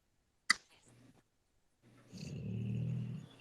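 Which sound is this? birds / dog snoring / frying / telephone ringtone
dog snoring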